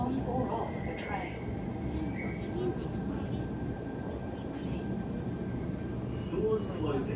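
A Sydney train rumbles along between Sydenham and Chatswood, a steady low roar of wheels and motors inside the carriage, with faint squeals and an onboard voice over it.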